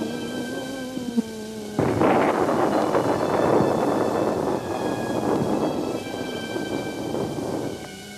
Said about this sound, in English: Thunder echoed all around me